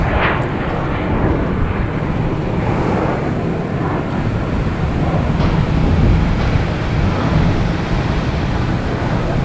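A British Airways airliner taxis at Boston Logan Airport, a low, steady engine rumble mixed with wind buffeting on the microphone, continuous and moderately loud with no speech.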